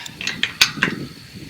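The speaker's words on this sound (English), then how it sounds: "now I just have to tighten on the other side of the lag bolt" A ratchet tightens a nut on the lag bolt of a farm gate, giving several quick, close clicking pawl bursts in an irregular rhythm with no talk.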